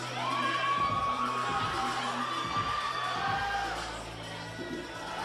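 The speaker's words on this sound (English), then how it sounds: "The audience is heated as we approach the third round." Spectators at a Babson Boxing Club bout cheer and shout between rounds, a loud, continuous crowd roar with high whoops and sustained yells that slowly ease off.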